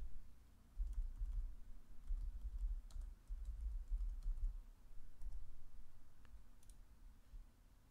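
Sparse, soft clicks of a computer mouse and occasional keyboard taps while working in SolidWorks CAD software, heard close over a low steady hum with no voices.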